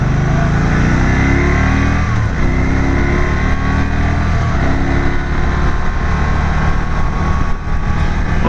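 A Can-Am Spyder three-wheeled motorcycle on a Kumho tire accelerates hard with a loud, sustained engine roar and rising pitch, mixed with heavy wind rush.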